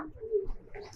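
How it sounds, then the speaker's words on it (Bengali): A pigeon gives a short, soft coo close by in a pigeon loft housing many fancy breeds, faint and brief against a quiet background. "এই পাশে এক জোড়া আছে, খুবই ক্লাসিক কবুতর।"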